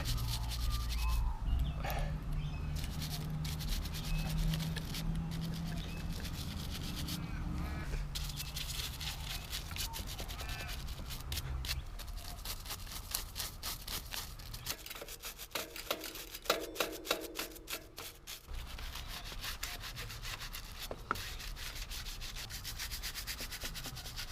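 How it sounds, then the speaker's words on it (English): Bike chain and drivetrain being scrubbed with a Park Tool chain cleaner and degreaser, giving a steady, close rubbing and brushing scrape that runs throughout with small irregular clicks and shifts in texture. "you can get in there and give everything a good scrub"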